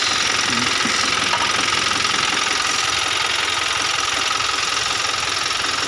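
A Hino truck engine with a leaking valve cover gasket runs steadily close by, a loud continuous idle with a rapid mechanical clatter and no break.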